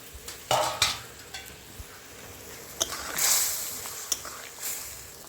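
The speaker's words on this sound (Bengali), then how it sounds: "ঝোলটি ফুটে এসছে, আমি বড়াগুলো দিয়ে দেবো" Prawn fritters going into boiling sweet-and-sour gravy in a pan, then stirred, giving scattered soft clatters and splashy stirring with a steady low sizzle and bubbling, moderately close, with no talk.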